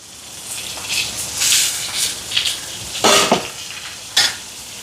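Chopped onion, green chili, curry leaves and fennel seeds sauté in a pan for a Jaffna-style chicken curry, with a steady sizzle broken by several louder bursts as the mix is stirred and scraped.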